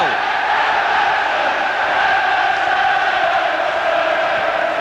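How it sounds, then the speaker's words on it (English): Football crowd at Everton versus West Ham in the 1986-87 season singing after an Everton goal, a loud, dense, sustained roar of massed voices from the stands. "the way the crowd is singing now"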